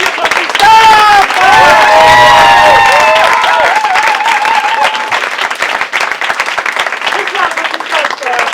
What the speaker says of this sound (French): on peut applaudir Jean-Christophe.